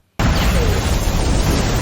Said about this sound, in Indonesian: Gunner melemparkan granat ke bawah mobil, yang kemudian meledak dengan keras.